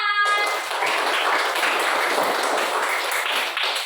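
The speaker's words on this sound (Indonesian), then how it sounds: "Beri tepuk tangan untuk kita semua" Schoolchildren in a classroom clap together after their presentations, a dense, steady patter of many hands that fills nearly four seconds without a break.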